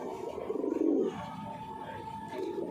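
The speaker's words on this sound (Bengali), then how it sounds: "বেজি শেপের পায়রা" Pigeons of a Bengali fancy breed coo softly and low, with a rolling coo near the start and another toward the end over a quiet background.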